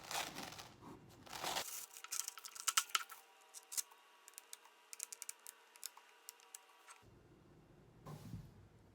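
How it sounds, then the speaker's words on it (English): A stencil is peeled away from a painted canvas: quiet, close crinkling and sticky tearing with a run of small sharp ticks and snaps, starting and stopping irregularly. "Grab a corner and just peel away."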